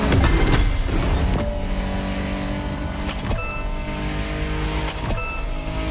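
A BMW Z4 M40i convertible's engine in The Crew Motorfest racing game, revving and shifting through gears with a loud, steady drone and repeated rising pitch sweeps, no voices.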